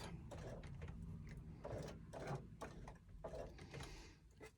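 A hand-cranked sewing machine stitches a curve on a small fabric pouch, giving a soft, steady mechanical clatter of rapid stitches in uneven bursts, fairly quiet and close, with no voices.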